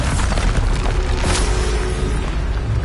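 A loud, dense booming blast from the Bombarda spell in Hogwarts Legacy, a sustained roaring explosion filling the short moment with no pause.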